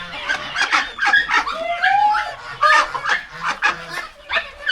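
Domestic geese honking repeatedly at close range, loud overlapping calls with a few rising squawks, busy and continuous with no talking.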